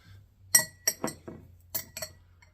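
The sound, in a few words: spoon clinking on the rim of a glass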